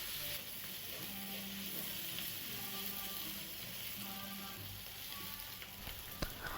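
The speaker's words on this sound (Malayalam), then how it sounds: "നല്ല ബ്രൗൺ കളറായിട്ട് എല്ലാം ഉള്ളി ഭയങ്കരമായിട്ട് സോഫ്റ്റായി വരുന്നത് വരെ നമ്മളിത് ഇടയ്ക്കിടയ്ക്ക് ഇളക്കി കൊടുക്കണം." Onions for chicken curry frying in a pan and stirred now and then until soft and brown, giving a faint, steady sizzling hiss throughout with a low background hum.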